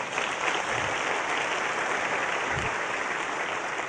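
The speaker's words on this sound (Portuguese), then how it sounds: "Você quer aplaudir? Pode aplaudir." An audience at a church sermon gives a dense, sustained round of clapping that fills the whole stretch at an even loudness, with no clear voices over it.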